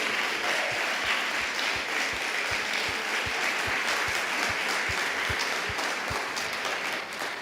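A church congregation at a Portuguese-language worship service claps loudly and continuously, with a steady rhythmic beat running through the sustained applause for several seconds.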